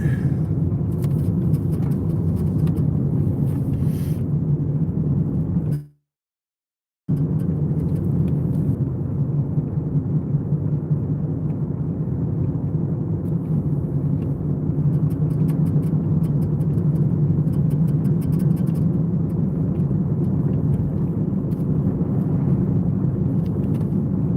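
Steady low rumble of a car cabin on the move, a constant road and engine drone that runs unbroken apart from one brief drop to silence, with no one talking.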